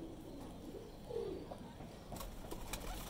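Baby pigeons coo softly in a low, muffled murmur with a few brief chirps, faint and distant against steady background hum.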